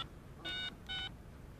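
Two short keypad tones sound as a telephone is dialed, each a clean beep lasting about a quarter second with a brief gap between, faint and isolated over quiet background hiss.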